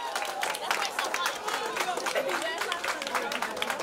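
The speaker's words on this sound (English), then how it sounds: "Give yourselves a round of applause." An audience of families at a school math night breaks into sustained applause, dense clapping mixed with cheers and chatter that holds steady throughout.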